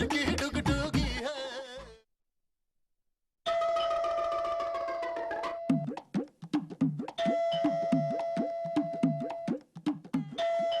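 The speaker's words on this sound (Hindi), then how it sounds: "ये डोरबेल की आवाज आपके कानों तक पहुंच रही है" A chiming electronic doorbell plays melodic tones several times, with a short silent gap, then repeated ringing notes.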